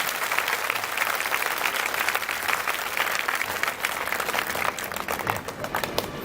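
An audience breaks into a big round of applause, many hands clapping in a thick, continuous roar that stays loud and lively, with a few sharper individual claps standing out near the end.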